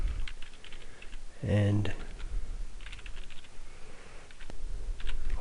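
Computer keyboard being typed on, with sparse soft key clicks scattered across the clip and a brief louder burst in the middle, while a voice speaks briefly.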